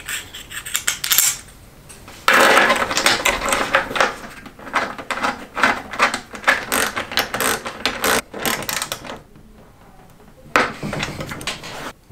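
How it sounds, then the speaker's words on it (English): A socket wrench tightening the nut on a solar panel Z bracket gives long runs of quick ratcheting clicks, close and loud, broken by short pauses as the handle is reset. "I now take a socket wrench and tighten it up."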